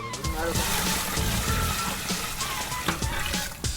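Water splashes and sloshes steadily into an outdoor cooking pot of venison goulash for a few seconds, a continuous pouring noise with faint clinks in the background.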